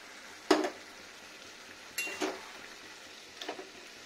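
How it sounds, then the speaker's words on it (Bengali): Raw poppy seed paste cooks with bottle gourd in a pan for a vegetarian lau posto. A soft, low simmer runs underneath, broken by three separate scraping stirs spaced about a second and a half apart. "এবার পোস্তটা দিয়ে নেবো, একটু ফুটে যাক ভালো হয়ে।"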